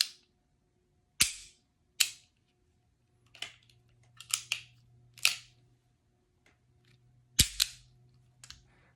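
A Rock Island .38 Special revolver fires a string of sharp, loud cracks, about nine shots at irregular intervals, each with a short decaying tail, some sounding nearer and louder than others, with no voices.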